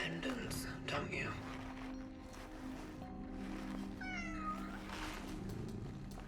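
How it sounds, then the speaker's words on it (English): A cat meows several times while being petted in the video game Cronos: The New Dawn, fairly quiet under a low ambient game soundscape. "Cat petting simulator."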